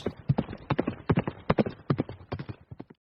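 A horse's hooves clip-clop steadily and fairly close as it is ridden through Flat Rock, the sharp regular strikes sounding alone for about three seconds.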